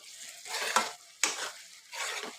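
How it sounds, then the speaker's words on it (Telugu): A bottle gourd and tomato curry with onion is stirred in oil in a pan, giving three broad scraping, sizzling sweeps with sharp spoon knocks against the metal, close and alone. "ఒకసారి మిక్స్ చేద్దాము"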